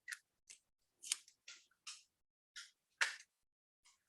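Scissors snip through paper while cutting out a circle, eight crisp, separate cuts spaced irregularly about half a second apart, close and clear against silence.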